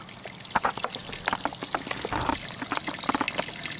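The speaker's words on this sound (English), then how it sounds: "we're introducing this water into the tank at roughly the rate in which we're pulling water or wort out" Water pours into a homebrew mash tank at a steady rate, a continuous trickling, splashing flow with irregular gurgles close by, fairly loud and alone.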